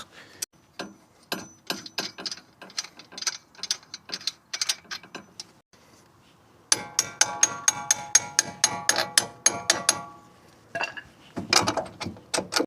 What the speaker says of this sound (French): on va desserrer sans tenir de l'autre côté